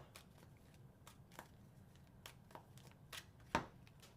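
Tarot cards being shuffled at a weekly three-card reading, a series of soft, quick riffling flicks with a sharper snap near the end, close and quiet.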